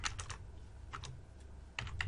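Quick bursts of keystrokes clatter close by on a computer keyboard, three short clusters of light plastic taps separated by brief pauses, with no talking.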